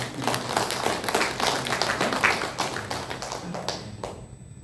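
Congregation clapping together during a Sunday church service, a busy, close wash of many hands that thins and fades out toward the end.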